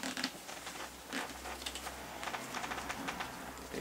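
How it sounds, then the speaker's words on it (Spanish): Zipper being drawn closed on a neoprene bottle cover, a quick series of small scratchy rasps and clicks close up, fairly quiet against a low steady background hum. "Se ajusta, se cierra aquí con la cremallera."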